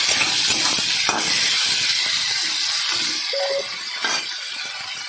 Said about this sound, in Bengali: দিয়ে আলু পেঁয়াজটা ভালো করে ভেজে নেব।